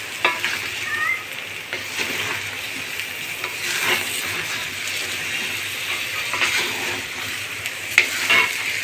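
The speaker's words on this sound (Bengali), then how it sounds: "এভাবে কতক্ষণ 5 মিনিট নাড়াচাড়া করতে হবে, যাতে মশলাগুলো নিচের থেকে না পুড়ে যায়।" Spices and mango pieces stirred in a frying pan, a steady sizzle with repeated scraping and clattering strokes of the spoon, close and continuous for several seconds with no talking.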